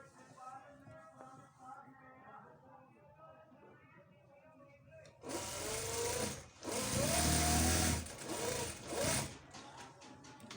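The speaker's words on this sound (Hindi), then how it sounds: "यहाँ से हम इस तरह से सिलाई करेंगे।" Someone talks over faint background, then a sewing machine stitching a child's shalwar runs loud and close in several bursts with brief pauses.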